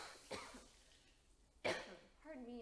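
A person coughs twice in a kitchen, two short sharp bursts separated by a quiet pause, followed by a brief vocal sound.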